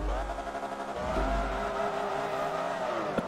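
A Ferrari races in the video game Forza Motorsport 3, its engine holding a steady, loud high-revving drone with a brief tire squeal, heard alone without talk.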